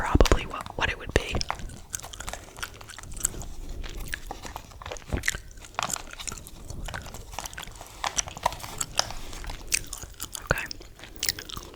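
Close, whispered gum chewing for ASMR, with soft wet smacks and crunchy bites ticking along in irregular bursts under a quiet spoken voice.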